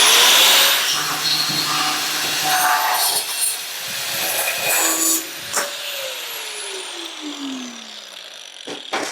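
Cut-off wheel grinding through metal stock for a Honda Rebel 250 motorcycle fork brace, a loud harsh hissing screech with rising and falling pitch as the wheel bites and spins down, ending in a few sharp knocks.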